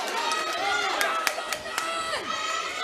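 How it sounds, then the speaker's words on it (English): A home crowd cheers at a Carlow v London junior ladies football match at Netwatch Cullen Park, a continuous roar of shouts and whistles with a few sharper yells, while a commentator talks over it. "You can hear the home crowd here really driving them on"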